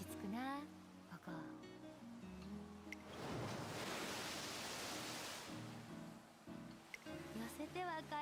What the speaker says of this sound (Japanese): 寄せては返す波の音つうのわびさびってやつだよな